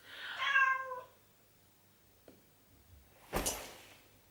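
A single clear meow sounds close by, followed by quiet rustling and a short knock or bump, with no talking.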